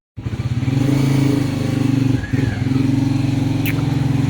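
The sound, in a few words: L3 motorcycle engine started and moved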